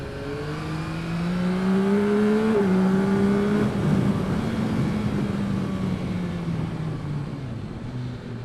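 A 2021 Yamaha Tracer 9 GT motorcycle engine drones and shifts pitch as the rider leans it around a corner, a loud sustained tone that rises, dips and settles, steady wind rush underneath.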